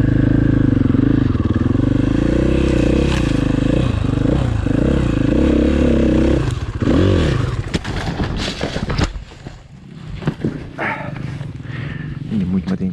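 Motorcycle ridden on light throttle in an open-pit mine: a loud, close, rough engine drone with wavering revs, joined later by clattering and bumping as it goes over uneven ground, with people talking over it.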